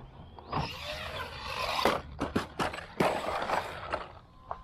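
An Arrma Outcast 4S V2 RC car drives nearby, its electric motor whining and revving in bursts while tires crunch and the chassis clatters over rough ground, with sharp impacts scattered throughout.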